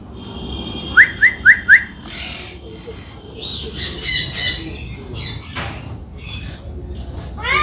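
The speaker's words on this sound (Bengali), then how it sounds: "এটা হচ্ছে ব্লু গোল্ড ম্যাকাও।" A blue-and-gold macaw at an exotic bird exhibition gives a quick series of four sharp whistled calls, followed by harsher squawks and chatter from birds around it amid crowd noise.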